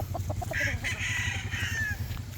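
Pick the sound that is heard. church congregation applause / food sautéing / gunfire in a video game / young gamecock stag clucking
young gamecock stag clucking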